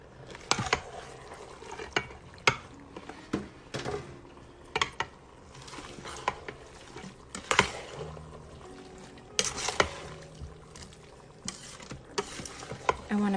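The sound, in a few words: stirring veggie taco filling with seasoning in a pan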